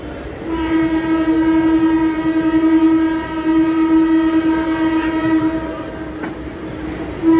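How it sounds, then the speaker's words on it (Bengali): A large train approaches Gandaria railway station in the afternoon, its horn blaring in a long, loud, sustained tone that holds for several seconds, pauses, and sounds again at the end, with rumbling rail noise beneath. "দূরে ট্রেন আসছে গ্যান্ডারিয়া রেল স্টেশনে যাওয়ার জন্য"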